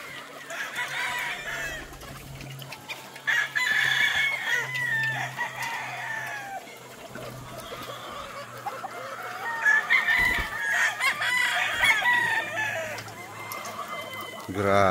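Many roosters crowing and clucking at a gamefarm range area with hundreds of birds, several overlapping crows near and far over continuous clucking, with someone talking now and then.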